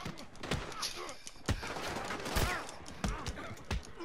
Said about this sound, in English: The cops are shooting me!